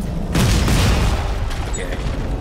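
A loud explosion in the sci-fi horror video game Dead Space 3 during co-op play, a sudden heavy boom followed by a long rumbling decay.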